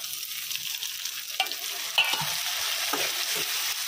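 Onions and tomatoes frying in a pan for baigan ka bharta, a steady close sizzle with a few sharper stirring knocks and scrapes, and no talking.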